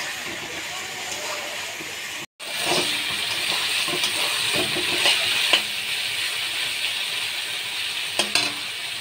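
Cumin powder, ginger paste and chilli paste fry in a hot pan for a banana blossom dish, a steady close sizzle with light scraping and stirring, briefly cut silent near the start.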